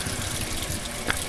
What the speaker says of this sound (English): she's cooling off the bottom part with cold water